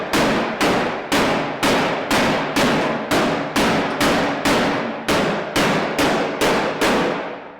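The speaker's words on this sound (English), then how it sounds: "I'm going to hold the dolly here to hold the panel steady, and I'm literally going to beat some shape into here" A hammer beats a steel Porsche 356 quarter panel held against a dolly, loud sharp metallic clangs striking about twice a second in a steady, even rhythm, up close and with no talking.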